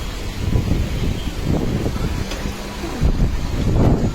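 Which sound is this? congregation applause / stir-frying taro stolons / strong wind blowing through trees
strong wind blowing through trees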